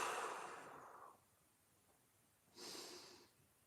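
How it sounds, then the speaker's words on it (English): Two deep breaths during a floor-based mobility workout, a long airy exhale followed by a shorter, fainter breath after a quiet pause, close and clear with no talking. "2 more big breaths."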